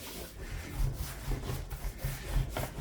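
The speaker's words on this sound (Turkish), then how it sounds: "yufkamızı sürekli çevirelim. Tüm kenarları yufkamızın eşit açılacak." Phyllo dough rolled out by hand and turned steadily on a work surface, giving soft repeated rubbing and swishing strokes with low thumps at close range and no talk.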